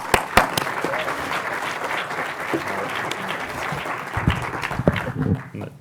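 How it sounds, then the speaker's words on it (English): A conference audience at a food systems event breaks into steady applause for an organiser being welcomed to the stage, dense and sustained with a few sharp nearby claps, fading slightly at the very end. "Let's welcome him with a big round of applause."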